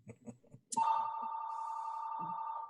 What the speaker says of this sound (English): as my phone is ringing in the background